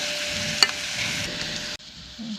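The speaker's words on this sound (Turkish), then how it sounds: "Baxın, biberlə göbələk, soğan qovrulub." Mushrooms, peppers and onion frying in a pan while being stirred, a steady close sizzle with one sharp scrape of the utensil, then a brief drop before the frying resumes more quietly.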